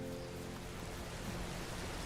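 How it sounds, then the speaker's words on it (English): A waterfall rushes in Medieval Dynasty as a steady, faint, broadband hiss of falling water, continuous and unbroken with no voices over it. "Nope, that's a waterfall right here."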